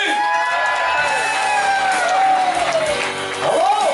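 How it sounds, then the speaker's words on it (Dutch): A crowd of fans at an Easter weekend fan event cheers and shouts loudly for Tia Martin, with whoops rising over a steady roar and a voice calling out near the end. "Mag ik een enorm applaus voor Tia Martin?"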